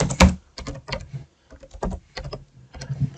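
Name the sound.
typing a file path on a computer keyboard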